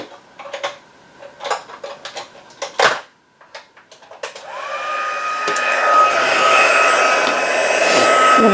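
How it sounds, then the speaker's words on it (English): A crafting heat tool for stamping is preceded by scattered clicks and taps as items are handled, then switches on with a rising whir and settles into a loud, steady blowing hiss close by. "I'll bring in my heat tool."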